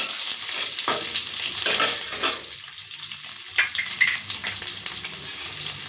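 Crushed garlic and mustard seeds sizzle and crackle steadily in hot oil in a pan for onion palya, with occasional stirring scrapes and louder spitting bursts, close and continuous with no talking.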